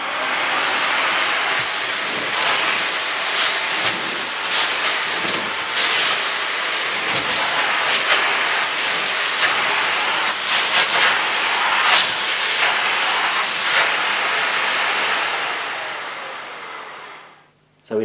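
A Miele S164 Quickstep upright stick vacuum on its minimum setting cleans upholstery with a steady, close airy whir. Brush strokes pulse through the sound, and the motor winds down at the end.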